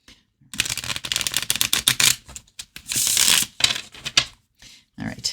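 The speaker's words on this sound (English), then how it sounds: "They say it takes 7 shuffles to get it fully randomized" A deck of tarot cards being riffle-shuffled by hand, with bursts of rapid papery fluttering separated by short pauses and a few soft taps as the cards square up, close and fairly loud with no talking.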